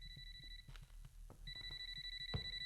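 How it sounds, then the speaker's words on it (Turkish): A telephone rings in a Silent Hill-style horror video game, two bursts of steady electronic ringing separated by a short pause, with faint footsteps and thuds in the background and no talk. "Aç artık şu telefonu abi sende."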